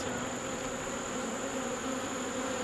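Honeybees around a newly installed nuc hive make a continuous, even, low buzzing hum, moderately faint and unbroken for the whole stretch, with no voices.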